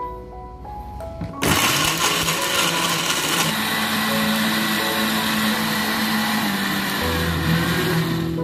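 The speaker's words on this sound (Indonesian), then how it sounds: "Ini nanti blender." An electric kitchen blender starts abruptly and runs at a steady, loud whir while blending spice paste ingredients for pindang kikil, continuing without pause.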